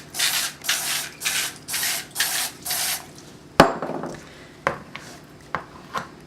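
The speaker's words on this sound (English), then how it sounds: "I'm just going to give a quick spray of Crisco." A can of Crisco cooking spray hisses in six short, even bursts over paper-lined muffin tins, followed by clanks and taps of the metal tins being handled, close and clear.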